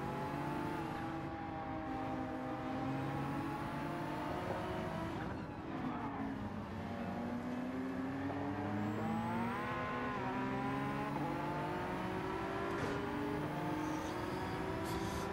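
Race cars on the final lap at Lago Maggiore in Gran Turismo 7, engines droning and rising and falling in pitch through gear changes, a steady close roar with faint tire squeal and other cars nearby.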